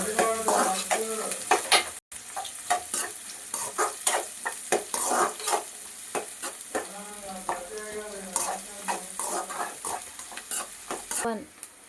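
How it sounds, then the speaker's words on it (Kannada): Onion and garlic frying in hot oil with popping mustard seeds, a steady close sizzle broken by sharp spoon-against-pan stirring scrapes and clinks, with no talk. "ಸಾಸಿವೆ ಸಿಡಿತಿದೆ, ಈರುಳ್ಳಿ ಹಾಕೋಣ. ಈರುಳ್ಳಿ, ಬೆಳ್ಳುಳ್ಳಿ ಎರಡು ಕೂಡ ಹಾಕಿ ಫ್ರೈ ಮಾಡೋಣ."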